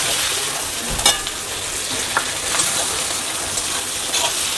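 Chopped tomato fries in a pan for bottle gourd with shrimp, giving a loud, steady hissing sizzle close up, broken by a few brief stirring knocks.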